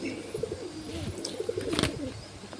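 Parava breed pigeons in a breeding loft coo softly in low, rolling, repeated calls, close by and fairly quiet.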